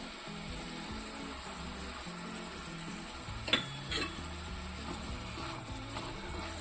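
Vegetables with salt sautéing in a pan for a mushroom and green pea gravy, a soft steady sizzle with stirring scrapes and a sharper utensil clink midway.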